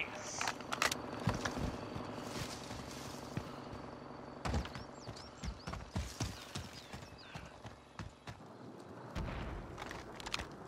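In Call of Duty Warzone, gunfire and explosions sound in the distance as sharp cracks and short bursts, some scattered and some in quick rapid clusters, heard against a steady hum of game ambience.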